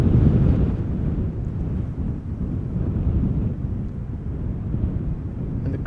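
Strong crosswind gusting at Schiphol Airport, about 14 knots from the southwest, roars steadily into the microphone as continuous low buffeting rumble with no pauses, loud and close throughout.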